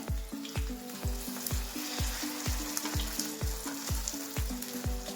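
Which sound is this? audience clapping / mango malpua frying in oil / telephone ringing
mango malpua frying in oil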